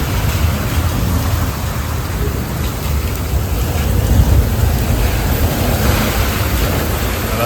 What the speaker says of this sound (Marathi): रस्त्याला गाड्या बघा पाऊस किती आहे